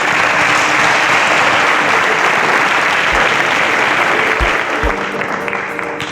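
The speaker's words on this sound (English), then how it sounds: "A round of applause for them, please." Studio audience at a national science competition show giving sustained, loud, dense applause for eliminated contestants, a continuous roar of many hands with a few low thumps near the end.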